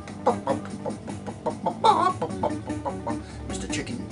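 Chicken clucking in the Amiga game Bump 'n' Burn, a busy run of short, bright squawks and clucks over a rhythmic game music backing, loud and close.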